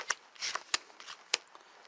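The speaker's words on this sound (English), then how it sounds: "let me shuffle this a little bit" Dragon Ball Super trading cards riffled and shuffled by hand, a handful of quick sharp papery flicks and slaps close up in a quiet room.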